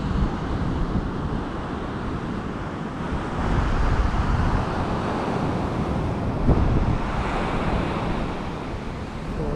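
Strong wind buffets the microphone over the surf at Chennai's ECR beach, a dense, steady roar of gusts and breaking waves that swells slightly midway and continues throughout, with no voices.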